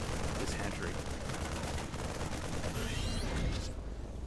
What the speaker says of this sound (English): these Marines being really obnoxious and shooting down this hatchery